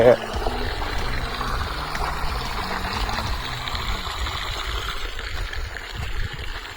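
Steady rushing and pouring water from an irrigation pipeline across a field of chickpeas, a continuous broadband wash with low rumbling underneath, close by and fairly loud.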